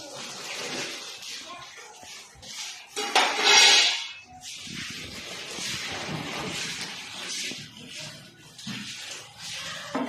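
Pots, plates and other pieces from a government-scheme kitchen utensil set being handled, with irregular clinks, knocks and clatters, one louder burst of rattling near the middle, and voices in the background.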